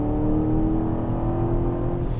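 Aston Martin DBX SUV accelerating hard to pass, its engine rising into a steady, loud revving drone heard from inside the cabin, continuous with no voices.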